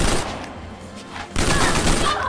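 Bursts of rapid gunfire from the fighting video game Injustice: Gods Among Us, a loud volley at the start, a brief lull, then another sustained barrage.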